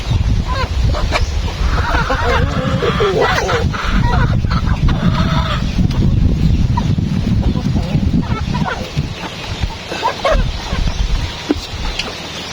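Chickens cluck and squawk close by amid busy outdoor background noise, with occasional brief voices mixed in.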